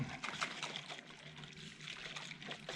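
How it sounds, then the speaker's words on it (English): Milk replacer solution for baby goats sloshes and splashes inside a lidded bottle being shaken, producing quick, close, irregular liquid bursts at low volume. "Put the lid on tight. Mix it, mix it."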